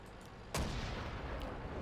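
Tank main gun firing in World of Tanks, one sharp, close blast followed by a rumbling decay over continuous engine and battlefield noise.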